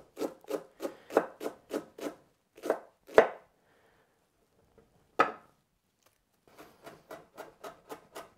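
Knife chopping cilantro on a wooden board in a home kitchen, a fast run of crisp evenly spaced chops, a pause with a couple of louder knocks, then another brisk run of cuts, close and with no talking.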